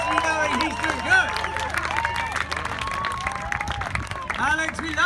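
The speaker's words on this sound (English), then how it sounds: "Give him a round of applause so far." Crowd applause and cheering from spectators at an acro paragliding show at Buttermere, steady and fairly loud throughout, mixed with crowd babble and a voice talking over it.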